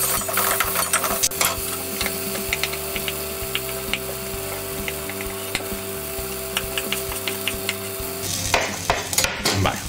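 Chopped garlic stirred in a pan makes repeated scraping and clinking of a utensil against metal over a steady sizzle and hum, close and fairly loud.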